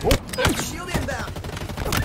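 Sharp gunshots from the multiplayer video game Halo Infinite, a few quick cracks amid busy game effects, loud and close, with someone talking over them.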